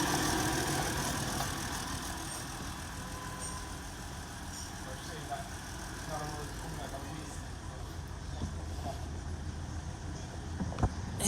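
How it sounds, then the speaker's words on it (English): A newly installed A/C compressor running on a 2007 BMW 525i with the engine going outdoors, giving a steady mechanical hum and engine drone at moderate level, with a faint tick near the end. "New compressor running on the vehicle."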